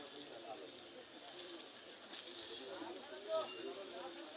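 Soft, low pigeon coos repeat at a pigeon market in Enayetpur, amid a busy background murmur of people talking, the birds close but not loud.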